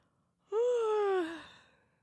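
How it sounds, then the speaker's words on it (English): A single loud, sudden yawn rising abruptly, holding a drawn-out voiced tone, then trailing off into breathy quiet, close and isolated. "Interrupting me once again is a loud and sudden yawn"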